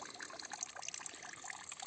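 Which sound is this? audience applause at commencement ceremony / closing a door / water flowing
water flowing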